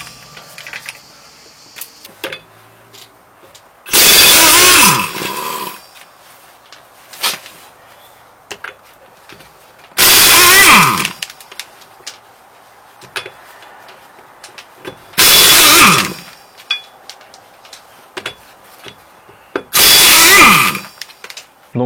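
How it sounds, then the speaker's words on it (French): A pneumatic impact wrench fed by an air compressor fires in four loud bursts of about one to two seconds each, evenly spaced with quiet gaps and small clicks between them. "c'est pour utiliser une clé à choc."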